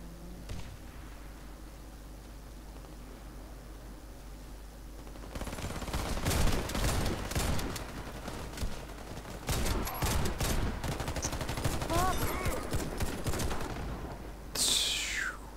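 Video game gunfire from two different weapons: a quiet stretch, then dense bursts of rapid shots and heavy blasts, loud and close, with a short pause before a final burst.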